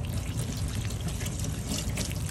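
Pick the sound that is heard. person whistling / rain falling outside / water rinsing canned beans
water rinsing canned beans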